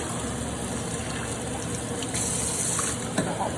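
Hot water runs steadily from a tap through rice to rinse off the starch, a soft continuous close-up rush with a slightly brighter stretch partway through.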